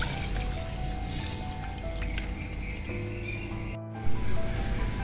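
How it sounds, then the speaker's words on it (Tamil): Water pours steadily into a pot of biryani rice with a soft trickling, splashing sound, close by, followed by a brief clunk and continued liquid sounds. "இப்போது ஒரு கிண்ணம் தண்ணி வந்து இதில் ஊற்றுறோம்."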